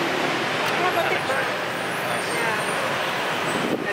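Heavy road traffic in a jam near an airport in Thailand, a dense continuous rumble of buses, trucks and cars heard from inside or beside a vehicle, with people talking over it.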